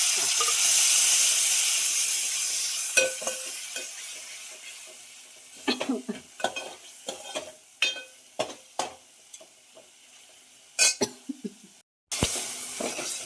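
Ground spice paste with cumin hits hot oil for tempering a traditional Vidarbha urad ghuta: a loud, close sizzle that slowly fades over several seconds, followed by intermittent scraping stirs of the pan.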